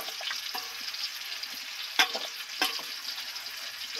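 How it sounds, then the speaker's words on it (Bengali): Tomato pieces soften in a pan for a Bengali ol chingri dalna, giving a faint, steady sizzle broken by a few brief utensil scrapes. "টমেটোর টুকরো কাটা সফট করে ভাজা হতে থাক"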